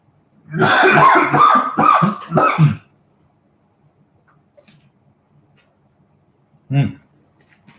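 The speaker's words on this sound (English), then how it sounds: "just a second, I'm going to cough" A quick run of several harsh, throaty coughs, close to the microphone, then silence and one more short cough a few seconds later.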